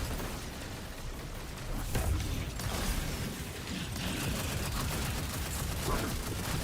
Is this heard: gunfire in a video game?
yes